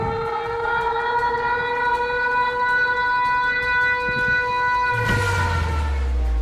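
A steady, wailing leopard-warning alarm siren, triggered by an AI camera, holds a sustained multi-tone note, loud and continuous, with a low rumble joining near the end.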